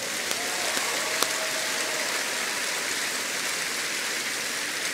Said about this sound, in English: Give the Lord the biggest clap offering.